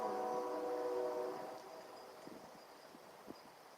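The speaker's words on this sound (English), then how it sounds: "You can hear the train." A distant train sounds a sustained horn for about a second, then fades into a low rumble with faint scattered clanks from the rails.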